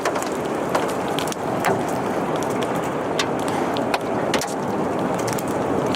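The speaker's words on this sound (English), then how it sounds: "Ones moving through trees, like this one here, get louder and can sound more like a jet engine." A tornado roaring as it moves through trees, a loud, continuous, broadband rush like a jet engine with scattered cracking and snapping, steady from start to finish with no voices.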